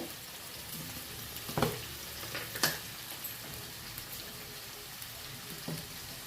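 Chopped ivy gourd (dondakaya) frying in hot oil in a pan gives a soft, steady sizzle with a few louder crackles and stirring clatters, fairly quiet throughout.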